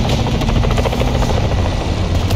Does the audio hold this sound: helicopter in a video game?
yes